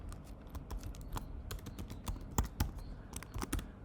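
Quick, irregular clicks of fingers tapping a computer keyboard, close and fairly quiet, in short bursts with brief pauses between keystrokes.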